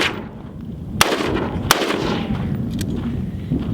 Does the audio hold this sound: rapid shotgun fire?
yes